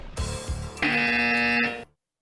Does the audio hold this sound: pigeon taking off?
no